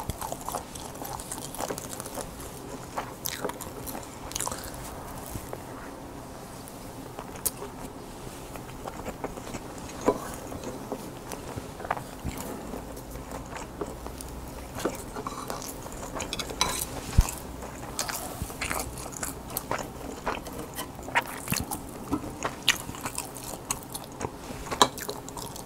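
Someone eating a Korean Bibigo meal up close, with soft biting, chewing and crunching mixed with clinks of a spoon against dishes, scattered irregularly at a quiet level.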